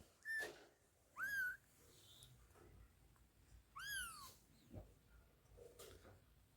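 A few kittens give short, high meows, three or four separate calls spaced a second or more apart over quiet background noise.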